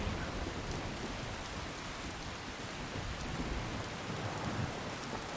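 Steady, dense rainfall with a low rumble of thunder in the modded Skyrim game Wildlander, a constant even hiss that fills the whole stretch without voices.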